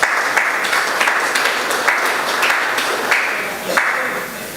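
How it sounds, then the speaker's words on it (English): Audience at a gender equality forum applauding, a sustained, even crackle of many hands clapping with occasional sharper claps standing out, moderately loud throughout. "I just want us to give them a round of applause"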